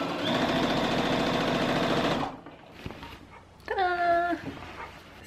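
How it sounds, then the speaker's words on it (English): A sewing machine stitches a 5 cm hem around a linen maxi skirt, a steady loud whirring run for about two seconds that then stops, followed by quiet handling and a brief whining sound. "so I'm gonna sew a 5 centimeter hem around now."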